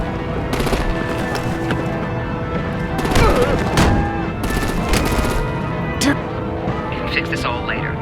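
Heavy gunfire and artillery blasts from Batman: The Enemy Within, a dense, sustained barrage with sharp bursts rising at intervals, mixed under game dialogue and dramatic score.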